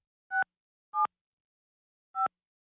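Telephone keypad tones while a number is dialed on a radio morning show: three short, clean beeps spaced irregularly, with silence between them.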